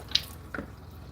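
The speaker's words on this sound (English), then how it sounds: "when you pull the drain on the sink, they are fascinated with the moving water and the sounds it makes" Water draining from a household sink, a couple of faint wet drips and gurgling slurps over quiet room tone, brief and soft with no talking.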